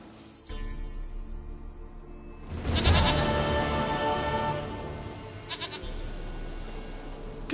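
A goat bleats in the video game The Witcher 3, with a couple of loud, close, drawn-out calls over a steady ambient game background.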